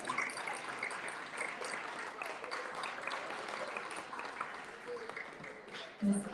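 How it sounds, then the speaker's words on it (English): Steady applause from an audience at a Margazhi festival performance fills the whole stretch, a dense patter of many hands at moderate level, with a brief louder bump near the end. "Big round of applause, please."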